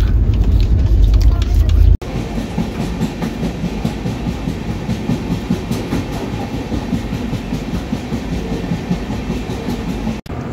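A Rajdhani Express rolls along the rails at night, with a steady loud rumble and rhythmic clickety-clack of wheels over rail joints, heard from inside the carriage, broken by a sharp cut near the start and end.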